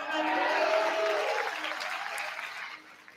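Gentle, modest applause from a congregation at a church service in Sacramento, a soft, dense patter of clapping that holds steady and then fades out over a few seconds.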